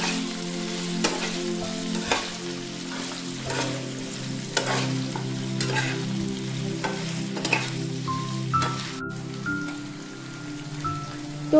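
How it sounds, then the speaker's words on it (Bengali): Cubes of paneer, rubbed with salt and a little turmeric, frying in hot oil in a pan: a constant dense sizzle with scattered pops and crackles, plus occasional utensil taps and stirring, close and steady with no talk. "আর পনিরগুলোকে হালকা লাল করে আমি ভেজে নেব।"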